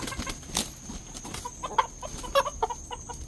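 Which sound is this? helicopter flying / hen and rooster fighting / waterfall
hen and rooster fighting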